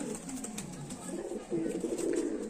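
Pigeons coo nearby in a soft, continuous murmur that swells louder in the second half, with no talk over it.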